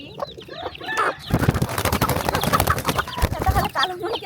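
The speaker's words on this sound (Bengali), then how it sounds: "এই বড় মুরগিটা ওই পাশ থেকে এই পাশে আসছে" Several hens cluck close by in a dense, busy chorus with overlapping calls and squawks, getting louder in the middle and easing slightly at the end.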